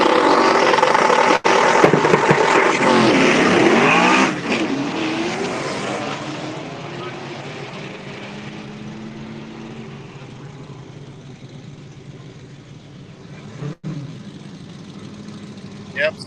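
Stick-shift race cars at a no-prep drag race rev and launch, a loud close engine roar at first that fades to a distant drone, with crowd and voices faintly underneath.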